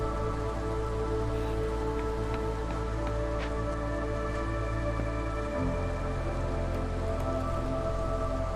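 Steady drizzling rain falls in the video game Against the Storm as a soft, even patter over a low, constant ambient hum with no talking.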